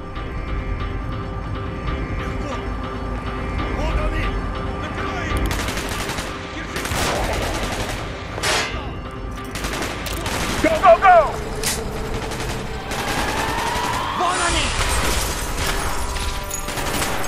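Call of Duty Black Ops single-player battle gunfire: scattered shots and bursts with booms over a constant rumbling backdrop, voices speaking between the shots.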